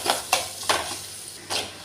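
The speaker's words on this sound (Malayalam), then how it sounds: "ഉള്ളി എല്ലാം നല്ലോണം വാടി ഇതിലേക്ക് നമുക്ക് മഞ്ഞൾപ്പൊടി കുരുമുളക് പൊടി കുറച്ച് മല്ലിപ്പൊടി കുറച്ച് മുളക് പൊടി ഇതെല്ലാം കൂടി നല്ലോണം ഒന്ന് ഇളക്കി കൊടുക്കും" Spatula stirring sautéed onions coated with turmeric, black pepper, coriander and chilli powder in a pan, giving four close scraping strokes over a faint sizzle, with no voices.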